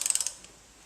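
Socket wrench ratcheting on the oil drain plug of a 2008 Subaru Outback, a quick burst of about six close clicking ratchet strokes, then quiet with one faint tick.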